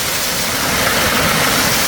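Loud, continuous rushing water from mountain runoff in a Himalayan valley roars without pause, a thick, steady torrent close at hand.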